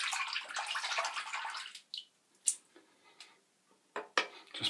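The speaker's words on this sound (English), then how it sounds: "Got some fresh water in the sink" Fresh water pours from a tap into a sink during a wet shave, a close steady rush that stops, followed by scattered clinks and taps of items handled nearby.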